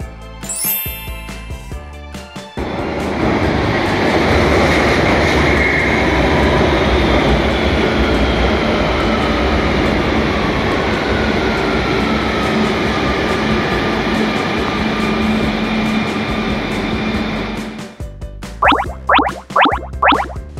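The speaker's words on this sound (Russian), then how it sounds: "Все правильно. Это поезд метро." A subway metro train runs past: a chime sounds first, then a loud sustained rumble with high whine for about fifteen seconds, ending with a few rhythmic clicking tones.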